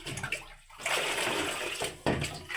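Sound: pouring water into an air cooler

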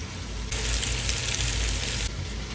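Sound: onions and garlic frying in a pot for beef stew

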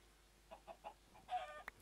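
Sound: chickens clucking in Minecraft video game

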